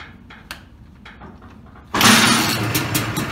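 A rebuilt two-stroke motorcycle engine, a students' shop project, is kicked over a few times with faint thumps, then catches and bursts into a loud, rough, steady running roar for the final second and a half.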